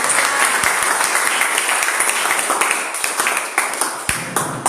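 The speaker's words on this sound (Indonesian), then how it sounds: "Beri tepuk tangan dulu" Sustained applause from a church congregation during a sermon, dense hand clapping filling the room with a steady, even texture and a few louder individual claps standing out.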